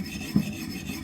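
A sharpening stone rubs along the secondary bevel of an axe blade to remove file scratches, a short, close, gritty scrape with one slightly louder stroke.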